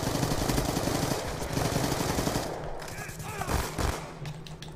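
Bursts of rapid video-game gunfire during a competitive multiplayer match, a steady rattle of shots lasting several seconds with a brief lull before more shots.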